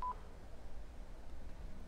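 Phone keypad dialing tones from the Yakuza 3 video game: a single short, faint electronic beep at the start over a low steady background hum, no talk.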